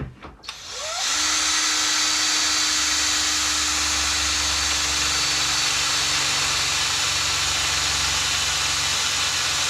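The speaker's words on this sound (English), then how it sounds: "Right, drilling." Power drill boring into tough metal on an Arrma Fireteam RC car, starting after a brief bump and then running as a loud, steady, sustained whine without a break.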